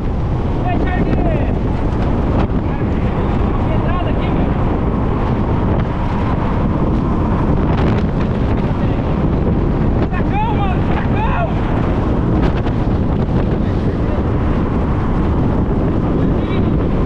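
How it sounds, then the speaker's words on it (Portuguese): Strong wind storm buffeting a mini motorbike on an open road, a loud steady roar of wind against the microphone that persists throughout, with faint voices now and then. "Ventania e coisa arada."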